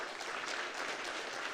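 Audience applause at a GJA 77th anniversary symposium, a brief, faint, steady patter of many hands clapping in a hall.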